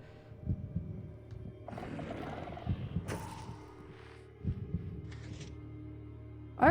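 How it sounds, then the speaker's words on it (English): A low, thudding heartbeat pulses steadily through the Minecraft dungeon game Decked Out 2, with a faint growl and mechanical clanks mixed in. "Our heartbeat still is remarkably okay."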